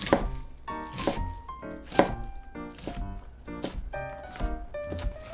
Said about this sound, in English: rotate the cabbage 90 degrees and cut it perpendicular to the previous slices into 1 cm square pieces